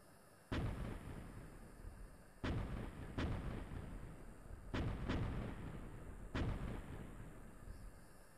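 Heavy gunfire and artillery blasts in a multiplayer combat video game with Apache helicopters, five loud booming impacts spaced a second or two apart over a constant rumbling battle din, with no speech.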